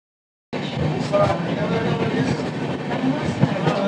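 A Vistadome coach train on the NJP to Alipurduar tourist special (15777) at Chalsa station gives a steady, close rumble with faint rattling clatter, starting abruptly and running unbroken throughout.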